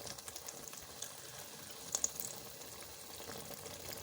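Spinach (palak) cooking in oil, a soft, steady sizzle with small spattering pops and a couple of sharper crackles, faint and close.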